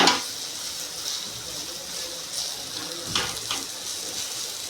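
Drumstick pods (shevga) fry in a pan with a steady broadband sizzle throughout, a few brief clatters and stirring touches breaking through near the start and around the middle.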